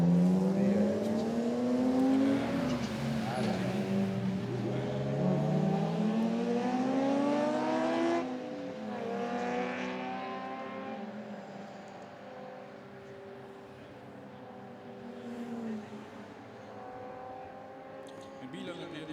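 Race cars in a classic car race held in Aarhus roar past under a safety car, a sustained layered engine drone with rising and falling pitch as they pass, heard under continuous commentary.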